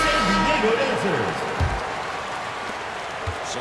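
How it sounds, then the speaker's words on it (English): A basketball arena crowd applauds loudly for the San Diego Surf dancers as an announcer talks over the sustained clapping and cheering. "Let's give them a round of applause for San Diego dancers."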